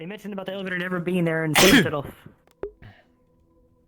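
A single sharp sneeze bursts out during a group voice chat, loud and close, right after a person finishes speaking and just before the room falls quiet.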